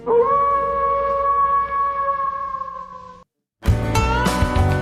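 A long sustained wolf-like howl plays as a radio show sound effect, loud and steady for about three seconds, then cuts to a brief silence before music or other programme audio starts.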